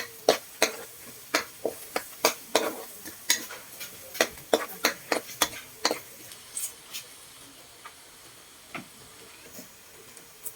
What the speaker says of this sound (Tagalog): Sunod naman ang bawang. Igisa lang natin yan sa butter.